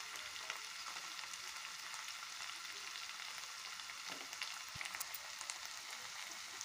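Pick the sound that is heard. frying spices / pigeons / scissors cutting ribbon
frying spices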